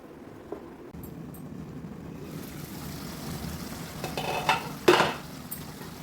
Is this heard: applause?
no